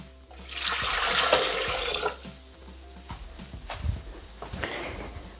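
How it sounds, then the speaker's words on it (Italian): Hot water pours steadily into a Thermomix mixing bowl for about two seconds with a rushing splash, then quieter trickles, clinks and handling noises follow nearby. "Iniziamo la ricetta mettendo all'interno del boccale l'acqua calda."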